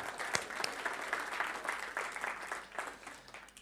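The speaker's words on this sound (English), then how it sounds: "Big passionate round of applause for Alison" Audience applause for a participant at a business leadership seminar, a short burst of many hands clapping that stays fairly faint and thins out toward the end.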